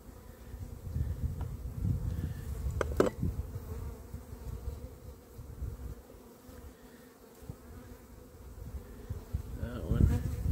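Honey bees buzzing around an open mini-nuc hive during a winter check, a close, fluctuating drone with brief clicks and knocks of hive handling.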